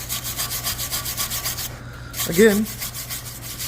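A wire brush scrubs fresh welds on the boxing plates of a 1978 Ford F100 truck frame, making steady, rhythmic scraping strokes up close, with a brief squeaky scrape near the end.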